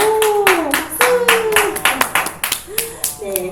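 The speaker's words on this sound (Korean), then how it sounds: "박수!" Children at a church Sunday school service clap in a quick, irregular patter of sharp claps while an adult voice talks over them.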